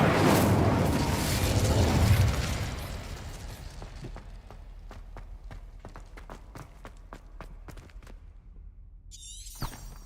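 The Incendio fire spell from Hogwarts Legacy erupts in a loud roaring whoosh of flame that fades into rapid running footsteps, ending with a faint crackle.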